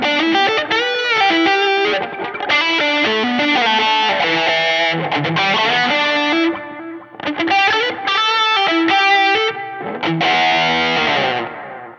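A heavily distorted electric guitar through a Line 6 POD HD500X effects unit plays a fast, continuous solo, loud and upfront, with brief pauses between phrases.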